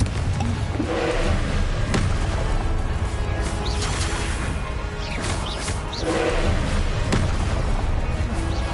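Confringo fire-spell blasts in the Hogwarts Legacy video game make loud, dense booms and crackling bursts that roll over each other continuously, with sharp impacts around two, five and seven seconds.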